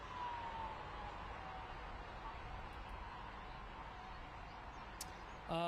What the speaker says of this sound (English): Hearing some sirens.